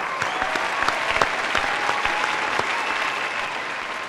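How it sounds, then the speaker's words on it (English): Steady applause from a quiz-show studio audience at a schools competition, dense and sustained with a few sharper claps standing out near the front. "Can we give both of them a big, big, big round of applause?"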